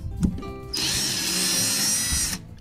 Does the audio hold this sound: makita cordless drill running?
yes